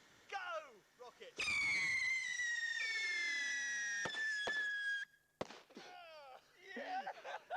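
Three model rocket planes ignite at once, a loud rushing whoosh with a rising whistle-like squeal that roars for several seconds, broken by sharp pops, with excited voices cheering before and after.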